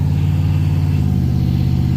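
A supercharged LS V8 swapped into a C10 truck on a test run, with a loud, steady low engine drone and a constant mechanical hum held close and unbroken throughout, no voices.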